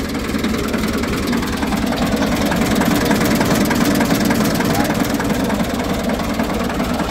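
A Ford 4600 truck engine idles close by, a steady low rumbling throb with a continuous vibrating knock that holds at an even level throughout, with no clear speech over it.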